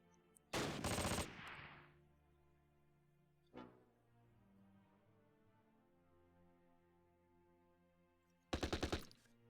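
Bursts of automatic gunfire in the Close Combat wargame at Arnhem: a loud burst near the start, a single sharp report midway, then another rapid burst near the end, with a low rumble between.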